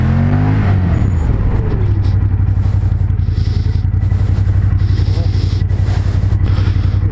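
Ducati Monster motorcycle ridden hard around a race track on Pirelli Diablo Rosso 3 tyres, its engine note loud and close, a steady droning roar with rising pitch sweeps at the start and constant wind rush throughout.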